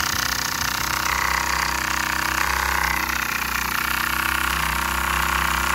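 A simple homemade oscillating wobbler engine, built mostly from unmachined parts, runs continuously with a steady, fast mechanical chatter and hum, close and loud throughout.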